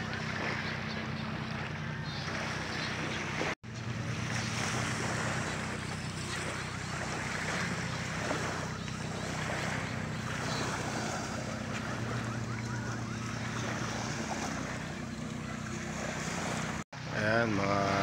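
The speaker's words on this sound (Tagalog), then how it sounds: "mga bangka ng bibiyahe, pauwi na po yan." Boats heading home across the sea off a beach in Samar at sunset. A steady, continuous engine drone sits under constant wind and surf, with voices faintly in the background.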